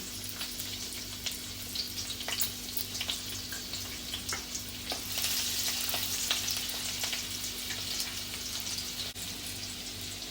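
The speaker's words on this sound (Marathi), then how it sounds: "लसूण घालायचं आहे ठेचलेला फोडणीमध्ये" Crushed garlic fries in oil as a tempering in a kadhai, a soft, continuous sizzle and light crackling, steady throughout, with a low hum underneath.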